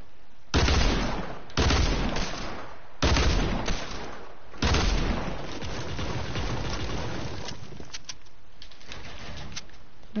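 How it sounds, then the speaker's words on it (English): Gunfire from a video game weapon aimed at a player-built staircase comes in four loud, close bursts of rapid shots, followed by quieter, steadier firing. "I'm shooting directly at my stairs"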